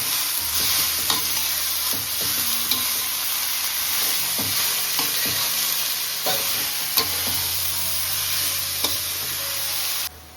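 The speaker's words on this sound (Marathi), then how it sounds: "आता आपण भाजीला परतून घेऊ" Wild monsoon greens such as teakla, kardu and ikra sizzle steadily in a hot pan with spices, broken by repeated scraping and clattering stirs of a spoon against the pan, close up and with no talking.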